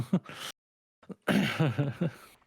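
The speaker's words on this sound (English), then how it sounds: "Sorry, coughing fit." A few short coughs or throat-clearing bursts from a person mid-fit, close and fairly loud, with brief silence between and a rougher run of hacking coughs at the end.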